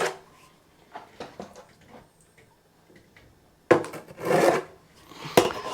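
A Marshalltown steel trowel spreads a first coat of plaster across a ceiling: scattered scraping and rasping strokes, close and fairly loud, with quiet gaps and a longer, heavier sweep near the end.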